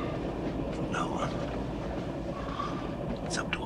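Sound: train running on rails

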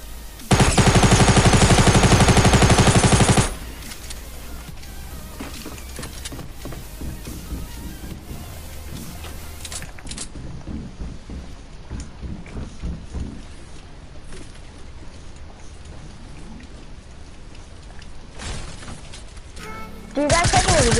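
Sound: minigun firing in Fortnite video game

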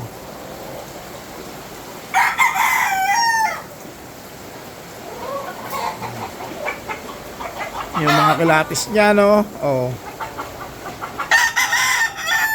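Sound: fighting rooster crowing

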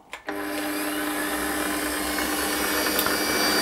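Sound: milling cutter taking light cuts in aluminium flywheel, chatter

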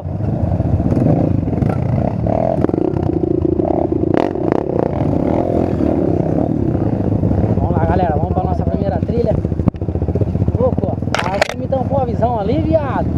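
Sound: 150cc motorcycle riding on a dirt trail

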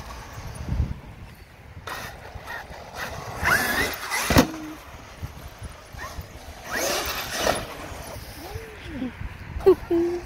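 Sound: Traxxas X-Maxx RC car driving in a skatepark

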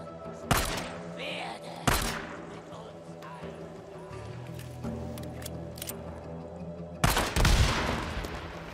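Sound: gunshots in the video game Days Gone

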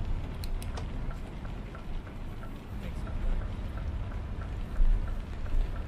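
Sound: rain in the video game Euro Truck Simulator 2

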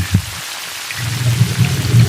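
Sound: pouring a liter of water into cooking pot

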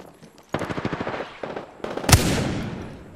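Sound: gunfire in a battle royale video game

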